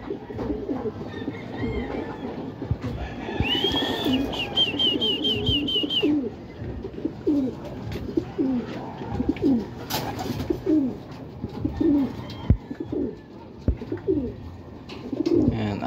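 Racing pigeons coo repeatedly in low, throaty rolls at a loft during a training flight, with bright chirps and occasional knocks and flutters mixed in, close by.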